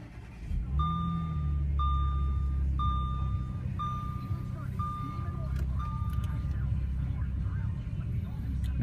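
A 2014 Audi S5's engine rumbles low and steady at idle after starting, while a series of repeated electronic chimes beep evenly over it.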